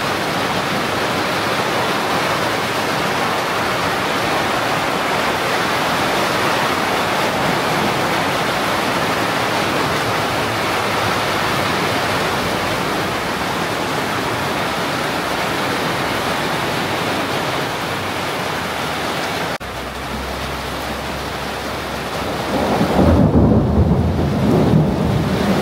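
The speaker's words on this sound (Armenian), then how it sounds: "Կարկուտ է գալի," Heavy rain and hail pour down in a continuous loud roar with deep rumbles of thunder. The downpour shifts in tone near the end, as if heard from under a different shelter.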